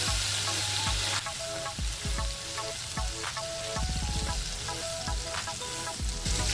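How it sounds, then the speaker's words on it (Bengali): Shrimp sizzle and crackle in hot oil in a pan, a steady frying hiss broken by pops and the clatter of a utensil stirring, with no talk. "চিংড়ি মাছটা আমি বেশি ভাজবো না, অল্প ভেজে নেব।"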